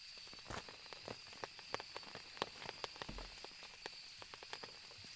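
Rain falling in the video game Phasmophobia, a soft steady patter with scattered sharper drips and taps spread unevenly across the whole stretch, faint and continuous.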